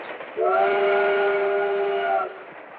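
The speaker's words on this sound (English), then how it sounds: "Lionel Trains, the only model trains with Magna Traction" Lionel model train with Magna Traction sounding a steady multi-tone whistle, held for about two seconds and clearly up front.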